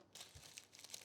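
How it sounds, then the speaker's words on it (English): Wrapping paper around a gift crinkles and rustles in short bursts as it is opened, a quick series of close, quiet crackles over about a second. "Okay, so this opens up and there's some wrapping paper."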